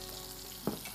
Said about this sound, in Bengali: এদিকে চিকেনটাকে মাঝে মাঝে একটু নেড়ে দিতে হবে।